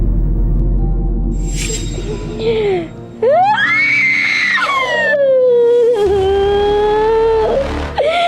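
A person screams loudly and at length, high wailing cries rising and falling in several long bursts over a low background hum.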